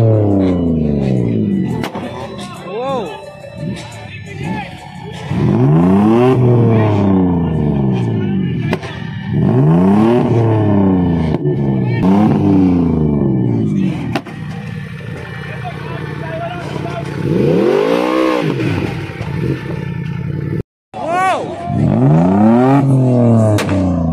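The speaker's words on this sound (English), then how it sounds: "This guy right over here is literally using his laptop to tune the car to check out how much flames it's shooting out." A tuned car at an underground car meet in India revs hard in repeated loud rising and falling bursts, with crackling pops between revs and background crowd noise.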